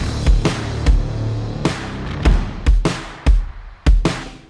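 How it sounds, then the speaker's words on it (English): Drum-and-bass drum track played alone with reverb: punchy kick and snare hits in a loose, syncopated pattern, each hit ringing out in a reverberant tail, loud and upfront with no other instruments. "just the drums by themselves sound like this"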